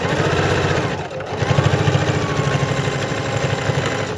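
A sewing machine back stitching the darts on a fabric bowl cozy, a steady close mechanical hum with a rapid needle rhythm, briefly slowing before running on.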